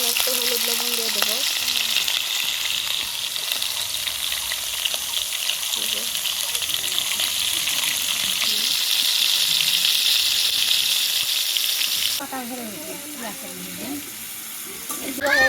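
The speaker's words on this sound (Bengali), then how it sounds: "আলুটা দিয়ে দিলাম তেলে।" Potatoes fry in hot oil in a heated wok with a strong, continuous sizzle that hisses steadily, then drops to a quieter sizzle near the end, with a voice talking briefly over it.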